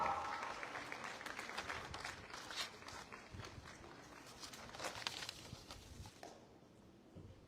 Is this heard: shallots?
no